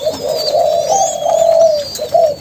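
Young spotted doves in a cage give soft, close, repeated cooing calls in a steady, rolling rhythm with short breaks, alone without voices.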